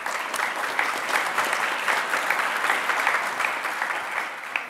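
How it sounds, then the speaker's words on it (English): At a high school presentation day, an audience gives moderately loud applause for Year 10 award winners. The clapping is a continuous, evenly textured spatter heard from a hall-like distance. "Can we have a round of applause?"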